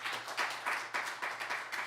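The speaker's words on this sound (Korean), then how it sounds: "다 같이 박수 한번 좀 쳐주십시오." A church congregation claps in unison, with rhythmic collective beats about every quarter second that come through moderately loud and fairly close, with a low steady hum beneath.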